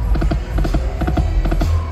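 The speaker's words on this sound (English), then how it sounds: "It sounds like a horse galloping." Galloping horse hoofbeats from a slot machine game, quick repeating clusters of clip-clop hits over a steady electronic backdrop, loud and close for about two seconds.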